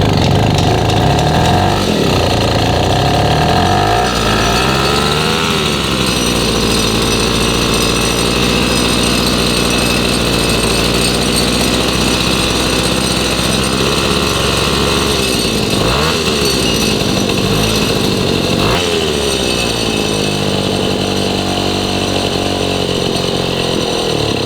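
A 1953 Itom Astor Sport two-stroke motorcycle engine running steadily and loud up close, a raspy buzzing drone with small rises and dips in revs throughout.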